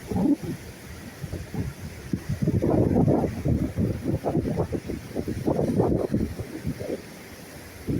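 Waves washing onto the beach at Ashdod, Israel, a steady rolling surge with soft crashes through the middle, mixed with wind buffeting the microphone; no talking.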